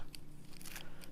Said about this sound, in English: how I do that is I just use a scissors